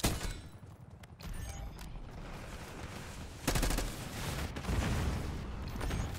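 Gunfire in a Black Ops 6 multiplayer match: dense, rapid bursts of shots run throughout, with a louder volley near the middle and more heavy fire toward the end.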